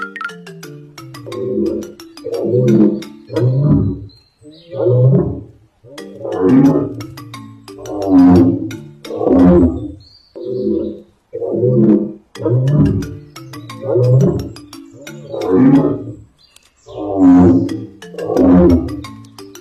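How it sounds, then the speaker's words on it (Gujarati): Loud animal roars for a story repeat about a dozen times in a steady rhythm, each a rough, throaty burst with short pauses between, with no talking. "પછી તે જોર જોરથી ગર્જના કરવા લાગ્યો."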